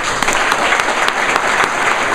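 A crowd claps loudly and continuously for the judges at a startup weekend winners event, a thick, even wash of hand claps with sharp individual slaps standing out throughout.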